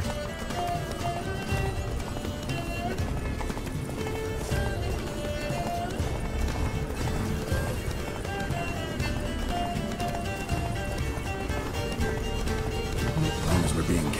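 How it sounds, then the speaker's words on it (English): A horse gallops in The Witcher 3 video game with steady, driving hoofbeats under a continuous, loud orchestral music bed that covers the whole stretch. "Run, Roach."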